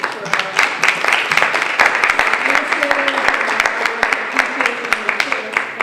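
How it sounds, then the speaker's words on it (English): Applause at a school committee meeting, a smaller group clapping with distinct individual claps audible in an irregular patter, while people talk underneath. "can we just give a round of applause?"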